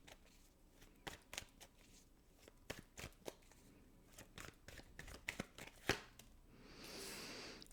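Tarot cards shuffled close up in a rapid series of crisp riffling flicks and slaps, irregular in rhythm, ending in a soft rustling swish; no one speaks.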